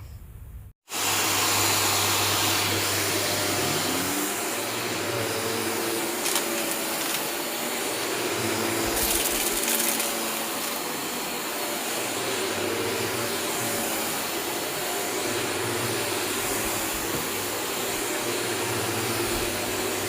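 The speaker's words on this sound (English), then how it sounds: "So the initial hoover hasn't got rid of much of it" A Hoover vacuum cleaner running on a pet bed, a loud continuous motor whine close by after a brief silent start, with shifting tone as the nozzle moves.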